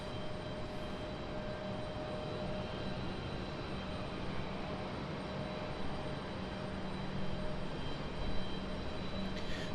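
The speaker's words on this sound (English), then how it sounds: "Is this our Frontier departure?" Frontier Airlines plane departing from RDU Raleigh-Durham airport, a steady broad jet-engine roar heard from a distance, holding level and swelling slightly toward the end, no talk.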